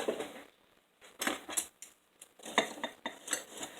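Dishes and cutlery being put away in a kitchen, with a run of metallic clinks, clatters and jangles in short bursts separated by brief quiet gaps, close and fairly loud, with no talking.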